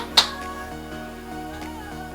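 One sharp, close clap meant to switch on clap-activated dollhouse lights, a single crack standing out over soft background music.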